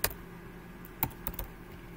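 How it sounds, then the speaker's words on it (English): Typing on a computer keyboard at a desk, a few scattered key clicks heard faintly and close, with a small cluster of taps near the end over quiet room noise. "I'm going to type in a fox tail."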